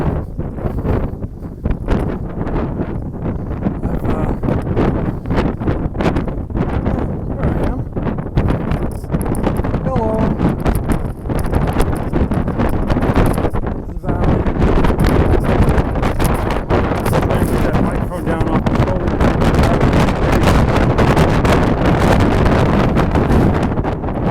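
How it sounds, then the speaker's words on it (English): Wind buffets a microphone outdoors on a hiking trail in Shenandoah, a loud continuous rumbling roar that persists throughout with gusty variations. "Wind is blowing from my back, so I would say it was blowing kind of south to north."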